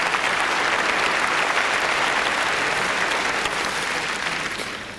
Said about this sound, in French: Sergueï Korokordine, applaudi par le public belge.